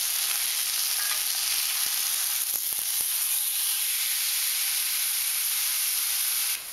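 Chicken sears untouched in a hot pan, giving a loud, continuous frying hiss and sizzle close up, with a few faint clicks early on and no talking.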